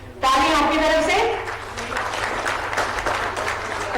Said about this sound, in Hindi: ताली आपकी तरफ से